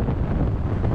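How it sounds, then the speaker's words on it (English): Steady, heavy beach wind buffeting the microphone with a constant low roar and no letup, no voices. "it's obviously always windy here"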